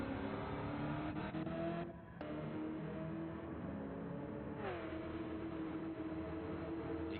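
A V8 Supercar race car in a racing video game at Dragon Trail Seaside drones steadily and close, its engine pitch dipping briefly partway through, with no voices.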